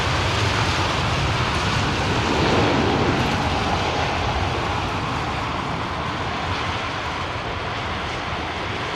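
Broadband roar of an airliner arriving on runway 27R at London Heathrow, a steady loud rumble and whoosh holding through the clip with no talk.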